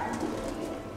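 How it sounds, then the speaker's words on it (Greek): Pigeons at a bird club show in Thessaloniki cooing softly and continuously, a low murmuring coo close by with steady background hubbub and no clear talk. "Εδώ βλέπουμε τώρα το θέαμα των περιστεριών αυτών."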